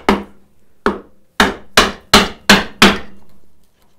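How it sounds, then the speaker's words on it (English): A wood chisel is struck with a mallet to cut a mortise for a drawbore mortise and tenon joint: seven sharp, close blows in a quickening rhythm, each with a short ringing decay, with no talk. "And then I'm gonna grab my chisel."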